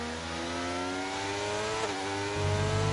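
Several race cars in a sim racing league event at Spain's circuit accelerate and hold a steady, droning engine note, with a deeper engine surging louder near the end; no voices.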